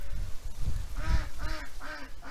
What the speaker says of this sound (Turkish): Kazlar var yalnız, yan tarafta kaz sesleri çok geliyor.